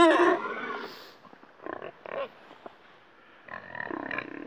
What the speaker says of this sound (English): There's the freezer pigs being grumpy.